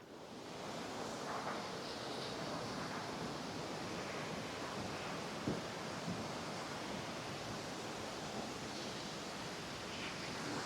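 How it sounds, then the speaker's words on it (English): Aira Force waterfall near Ullswater in the Lake District sends out a steady, dense rushing roar of falling water that stays broad and constant throughout, heard from a moderate distance with no voices. "I can hear the waterfall"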